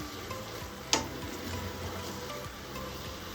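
Fish in a mustard-poppy seed gravy bubbling in a pan, a steady soft simmering hiss with faint ticking pops and one sharp click near the start.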